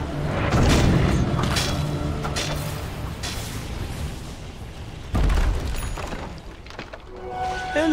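A tower crumbling in a Dota 2 match at a TI12 live event, with loud booming crashes and rumbling debris that swell again midway, dense and continuous.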